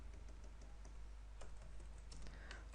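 Quiet, rapid keystrokes on a computer keyboard as SQL injection text is typed, light irregular clicks over a low steady hum.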